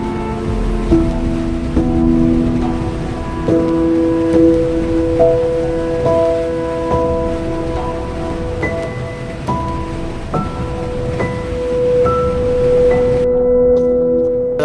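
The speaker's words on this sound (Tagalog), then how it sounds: "Malakas pa naman yung ulan mga amigo" Heavy rain roars steadily and loudly, with sustained tones and chirps layered over the constant wash of noise.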